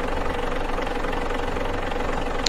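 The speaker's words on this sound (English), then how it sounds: "So, turn off the engine" Truck engine idling in Euro Truck Simulator 2, a steady, loud, even drone with a faint knocking texture and no break.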